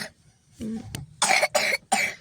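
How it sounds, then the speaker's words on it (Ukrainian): A few harsh, rasping coughs in quick succession, close by, following a brief throaty sound and a short click. "Кашель страшний."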